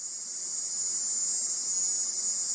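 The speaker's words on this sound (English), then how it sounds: "this was almost certainly the screech of the Jamaican cricket" A recorded screech blamed on the Jamaican cricket, captured at the Havana embassy: a loud, shrill, continuous insect buzz holding one steady high pitch with no pauses.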